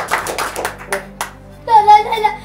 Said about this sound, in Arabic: صفقوا له يا جماعه صفقوا له